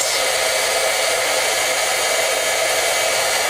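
A heat tool blows a loud, steady whir at close range as it melts silver embossing powder. The airflow hiss is constant for a few seconds, with no talking.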